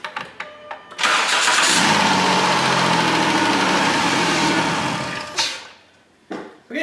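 A 2001–2010 Dodge Caravan with a 3.3L V6 cranks with a few clicks and short bursts, catches, and settles into a steady close idle before it shuts off, followed by brief clunks.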